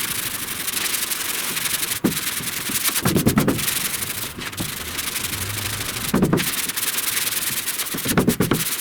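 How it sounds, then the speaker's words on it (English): Sanding primer and epoxy on the rear panel of a '69 C10 pickup: a steady, close abrasive rubbing hiss, broken by brief pauses and changes of stroke. "we're starting to cut through into epoxy here and here, but we almost got this sanded down"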